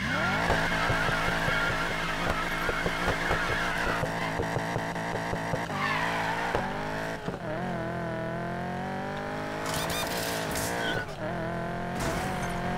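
A convertible in Need for Speed Payback revs hard and accelerates, engine pitch climbing through gear shifts with tire squeal and skidding, loud and continuous without talk.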